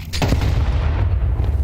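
A grenade detonating during a competitive Counter-Strike match: a sharp, punchy blast followed by a low rumbling tail, loud and close, alone without talk.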